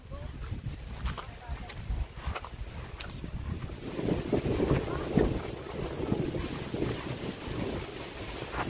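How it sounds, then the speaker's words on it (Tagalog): Strong wind gusting over a small boat in rural Surigao del Sur, a steady broadband roar with rumbling buffets against the microphone that swell louder in the second half, while people talk faintly underneath. "Lakas ng hangin."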